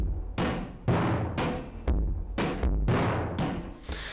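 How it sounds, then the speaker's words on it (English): Live drums played at half speed with Logic's Varispeed, heavy slowed kick and snare hits booming at a steady, loping pace with smeared, lo-fi decays and no voices. "that sounds like this at half speed."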